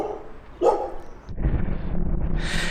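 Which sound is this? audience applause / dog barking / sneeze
dog barking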